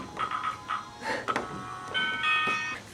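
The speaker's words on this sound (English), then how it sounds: "It has a little doorbell." A toy playhouse's little doorbell plays a short electronic tune of bright repeated chimes, then a sustained melodic ding-dong phrase toward the end, moderately close with faint background noise.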